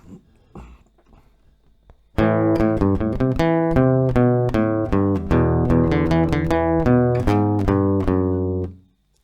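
Acoustic guitar plays the melody of a song at standard tempo, a steady run of bright plucked notes that follows a brief quiet moment and then rings out alone.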